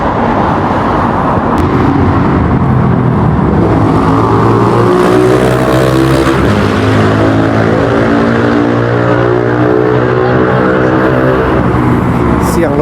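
A loud motorcycle engine revs close by during Victory Day celebrations in Russia. Its harmonic whine climbs steadily in pitch over several seconds, then holds under a continuous roar.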